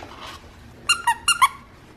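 Squeaker in a holiday plaid print slipper dog toy made of cotton canvas with Berber fleece backing, giving four sharp close squeaks in two quick pairs after a faint rustle.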